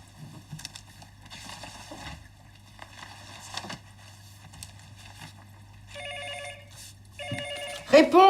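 Telephone bell rings in repeated bursts near the end of the clip, loud and close, following a stretch of quieter room sounds and faint voices.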